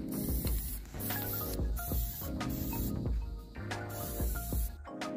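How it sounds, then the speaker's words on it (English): Plasti Dip flexible glossifier coating is sprayed from an aerosol can onto fishing rod holders, giving a close, continuous hiss that swells and eases in repeated bursts over a steady tonal background. "We're gonna put a little coat of this on there to protect it all and give it a little shine on there."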